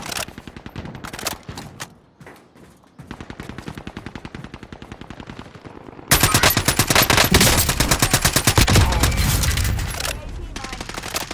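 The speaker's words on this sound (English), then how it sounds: "There's some shooting out." Rapid automatic gunfire rattles through a sniper video game in a continuous stream of sharp cracks. The fire starts moderate, dips, then grows much louder and denser.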